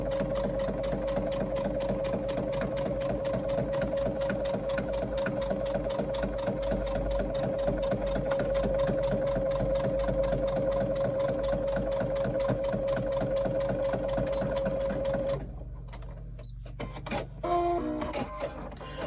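A sewing machine runs steadily while top stitching a handbag, a loud continuous whirring hum with rapid needle clatter for about fifteen seconds, then a few short stop-and-start bursts.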